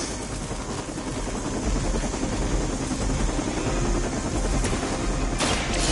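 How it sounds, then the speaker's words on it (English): A helicopter in the PS5 game Marvel Midnight Suns, a loud, continuous rotor chop and engine roar up close, with bursts of gunfire-like impacts mixed in and no speech. "Stop that helicopter."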